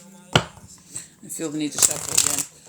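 Tarot cards shuffled by hand during a live reading, with a sharp riffle snap near the start followed by a busier flurry of card noise, close and fairly loud, while a voice hums or speaks faintly.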